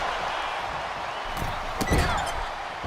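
A heavy strike lands in a wrestling video game: one dull thudding impact stands out over a steady, loud crowd roar.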